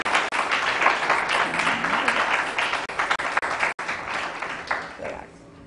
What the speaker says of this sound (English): Can we give applause to all our sponsors today?